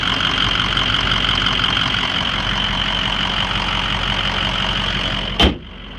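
A 2006 Ford F-350 King Ranch pickup engine idles steadily and fairly loud, ending in a sharp thump as the idle drops away near the end.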